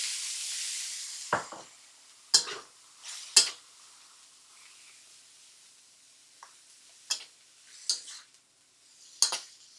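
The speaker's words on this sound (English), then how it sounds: "back up to 8 on the induction because stir frying needs hot heat" Chicken and broccoli with ginger and garlic stir frying in a wok over high induction heat: a faint sizzle under sharp intermittent metal scrapes and clacks of the spatula, about seven or eight spaced strikes with quiet between them.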